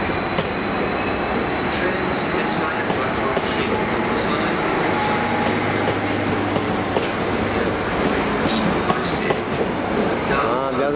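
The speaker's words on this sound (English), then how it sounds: "This is another train that's going to Bargod." A train bound for Bargod at Cardiff Central station rumbles steadily past, with wheel noise, clattering rails and faint high squeals throughout, loud and close.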